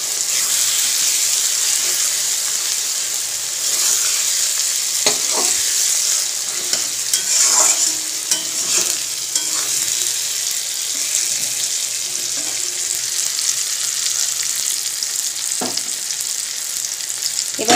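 A large quantity of onions fries in plenty of oil in a pan, giving a loud, constant crackling sizzle throughout, with occasional scraping stirs of a spoon against the pan.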